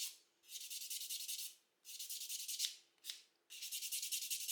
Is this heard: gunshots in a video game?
no